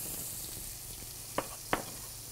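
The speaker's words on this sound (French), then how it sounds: "on va aussi tout de suite ajouter nos oignons" Onions added to a pan of potatoes frying in a kitchen, with a steady sizzle throughout and two brief sharp pops or clinks near the end.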